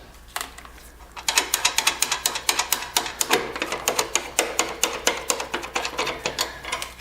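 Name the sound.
unscrewing a nut while installing Kubota BX light guards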